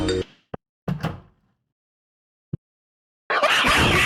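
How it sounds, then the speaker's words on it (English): A door in the Stardew Valley video game gives a few short, sharp clunks and thuds, followed by a burst of louder game sound effects near the end. "Come on, open the door!"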